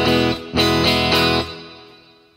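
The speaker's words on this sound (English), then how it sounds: "All there is a few open E's to play. And it's just three down strokes, pretty hard strokes as well." Electric guitar with distortion hits three hard down strokes on an open E, each chord loud and sustained, the last one ringing out and fading slowly.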